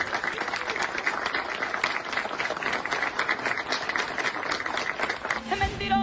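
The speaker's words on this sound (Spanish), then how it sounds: "Fuerte aplauso" Studio audience on a Peruvian TV show breaking into sustained, dense applause and clapping, loud and continuous, with a voice briefly speaking at the end.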